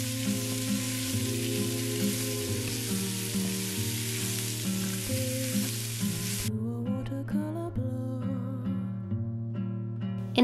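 Rice stir-fries in a pan, a steady loud sizzle for several seconds that cuts off sharply and gives way to quieter scraping and clinking of the spatula as the rice is mixed, heard close with nobody speaking.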